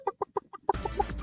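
Video game chickens cluck in a quick series of five short, evenly spaced clucks, followed by a noisier burst with more clucking layered over it, close and clear with no talk.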